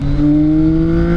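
A CFMOTO 675NK three-cylinder motorcycle with its standard exhaust revs up loud and close, the engine note climbing smoothly in pitch over about a second.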